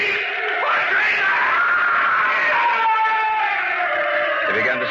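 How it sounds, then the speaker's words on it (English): A man screams in a radio drama of Poe's tale, a sustained, wavering cry that rises and falls in pitch for several seconds, loud and close, with no other speech over it. "He began to scream."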